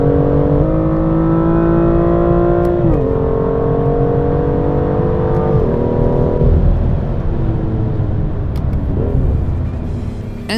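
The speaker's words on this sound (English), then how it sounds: "In the M2 you can hear the engine and exhaust regardless of the driving mode." A BMW M2's engine and exhaust accelerate hard and up close, the loud, steady roar climbing in pitch with brief dips at each gear change. No one speaks.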